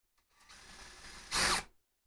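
A power drill drives a self-drilling sheet metal screw while a water reservoir is being mounted in a PC case: low whirring ratchets along for about a second, then there is a short, loud burst of drilling before it stops.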